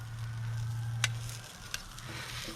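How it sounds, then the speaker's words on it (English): Vegetables cook on the piping-hot surface of an Ooni Koda 16 oven with a soft, low sizzle, broken by two sharp clicks of handling. No voices are heard. "we're going to go ahead now and just put all our veggies on"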